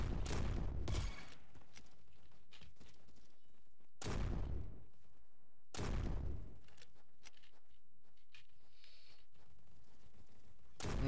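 Shotgun blasts from the video game Bad Business ring out in several loud, separate bursts spaced a few seconds apart, with quieter stretches between them.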